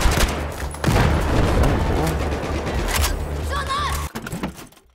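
Battlefield 4 gunfire rattles in a loud, dense burst that lasts several seconds and then cuts off, with faint electronic game sounds at the end.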